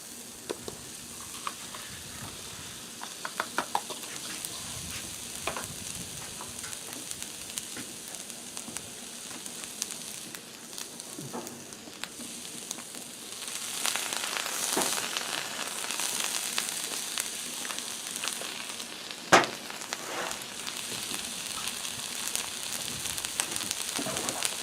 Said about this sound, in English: let's start getting these onions on